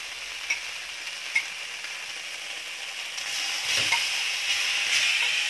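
Pork bones and pork being stir-fried together in a hot pan for a spicy Thai curry, a steady sizzle and hiss with a few sharp scraping clicks of a utensil against the pan.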